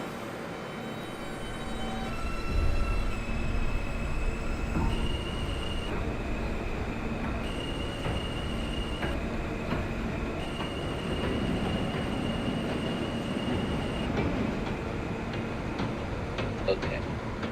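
An R160 subway train on a J local run in the OpenBVE train simulator, rumbling continuously with rising and stepping motor whine tones and squealing wheels, loud and steady throughout.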